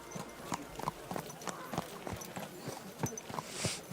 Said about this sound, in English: Is this your first time riding a horse, you moron?